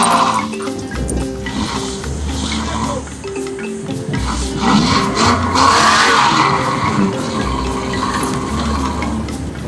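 Tires of a car stuck on a track in Botswana spin and skid while a chain tows it, with stones and bits of wood and leaf jammed under the wheels. Loud, continuous engine roar and grinding, with voices faintly in the background.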